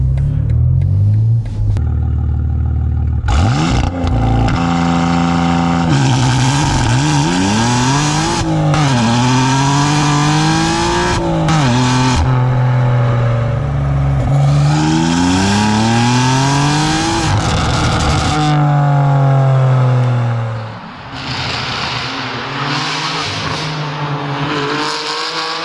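A BMW M3 G80 fitted with an Fi aftermarket exhaust and factory exhaust valves revs hard in repeated loud, rising and falling bursts, with deep rumbling pulls and sharp throttle blips, no talking over it.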